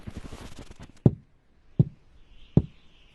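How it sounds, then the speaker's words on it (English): Three firm, hollow knocks on a wooden door, evenly spaced and close, following a brief rustle of movement, with quiet between them. "Laren knocks firmly on the wooden door 3 times."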